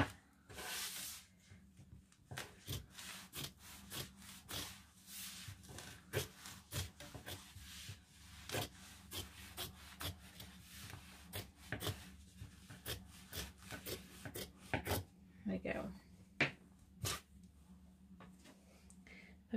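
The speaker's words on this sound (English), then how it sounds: "I've just trimmed away the excess foam from my seam allowance" Excess foam being trimmed from a fabric seam allowance, repeated scissor-like snips and soft rubbing in an irregular rhythm, close but quiet, with no talking.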